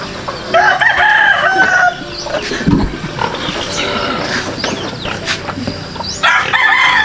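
A fighting cock crows loudly and close at the start, then calls again near the end, with background bustle in between.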